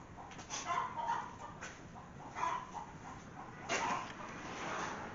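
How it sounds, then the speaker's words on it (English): Chickens cluck and squawk in the background, a few short calls rising out of a steady low rustle at moderate distance, with no talk over them. "you are hearing chickens in the background"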